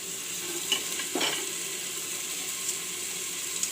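Rice being stirred and fried in a pan with peas and onions for khichdi, a soft continuous sizzle with a few faint scraping stirs, quiet and close with no talk.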